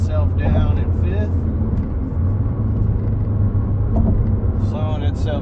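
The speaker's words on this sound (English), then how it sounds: "So what we're gonna do is start downshifting and letting off the gas. So the car's slowing itself down in fifth," A Mitsubishi Outlander Sport with a manual transmission coasts down in fifth gear, its low engine drone and road rumble steady and close inside the cabin, with speech audible throughout.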